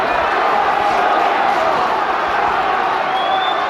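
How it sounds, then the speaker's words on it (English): A boxing arena crowd at a Ramirez versus Earl bout roars continuously, a dense steady wall of cheering and shouting with a commentator's voice running over it. "Crowd roaring Earl on"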